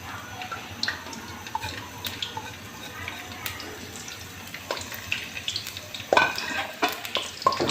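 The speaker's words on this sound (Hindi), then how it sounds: "ये हमारा ऑयल गर्म हो गया है तो इसमें हमने ये लहसुन और ये ज़ीरा ये शामिल कर दिया है" Garlic and cumin frying in hot oil in a pan give a steady, soft crackling sizzle with occasional sharper pops and stirring scrapes, fairly quiet and close.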